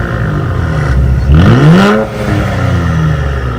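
Nissan Z Sport twin-turbo engine revs sharply upward and then falls back, a loud, close blip over a steady idle.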